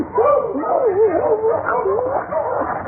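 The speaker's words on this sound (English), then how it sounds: "The dog seems heading this way." A sled dog in a snowy Yukon setting yelps and whines continuously, with a rising and falling pitch, fairly close and loud for about three seconds.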